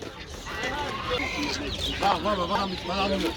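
Clucking chickens at an Adana poultry market, with mixed village hens and laying hens among turkeys, geese and ducks; close, busy calls against market bustle.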